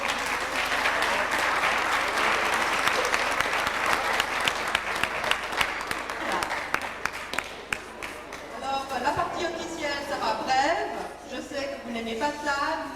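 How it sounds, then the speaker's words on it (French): An audience at an evening event in Geneva applauds an organizing committee with sustained, dense clapping that thins out into scattered claps and murmuring voices near the end. "Et je vous prie de bien vouloir les applaudir."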